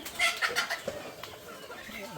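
Chickens cluck and squawk in a noisy flock, with people talking over them throughout.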